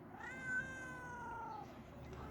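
A cat meows in one long, drawn-out cry that slowly falls in pitch, heard close against a low background hum.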